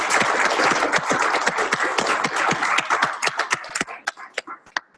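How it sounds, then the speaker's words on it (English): An audience at a Go programming conference applauds a speaker with dense, loud clapping that thins into scattered individual claps before fading out. "Let's give him a round of applause."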